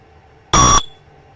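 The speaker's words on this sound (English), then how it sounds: "I've got the smoke detector right here. It's wired in. So we'll hit the test button." A hardwired smoke detector pressed on its test button gives one sharp, loud piercing beep of about a quarter second, close by, in a quiet room.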